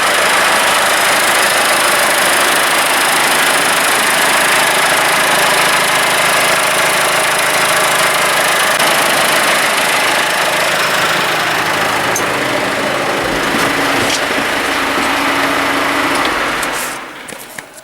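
A McCormick CX95 tractor's diesel engine idles steadily and loudly up close after a fuel filter change, a constant rumbling drone that cuts out abruptly near the end.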